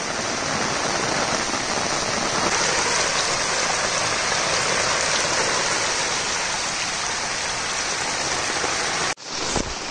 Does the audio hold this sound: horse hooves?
no